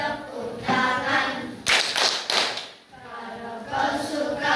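Children clap their hands in bursts along to a sung children's song in a primary school classroom, the claps mixed in with the singing voices.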